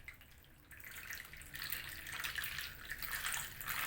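Warm milk trickles gradually into pancake batter, a faint, soft liquid pouring that swells a little as it goes on, with no voices.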